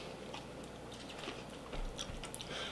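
Someone bites and chews a crunchy chocolate-coated popcorn holiday treat close to the mic, soft irregular crunches and moist chewing clicks scattered over a quiet background, a few sharper bites toward the end.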